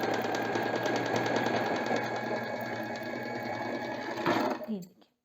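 An Usha Janome Wonder Stitch sewing machine runs steadily in a fast, continuous mechanical whir with rapid needle ticks, close and loud, before slowing and stopping near the end.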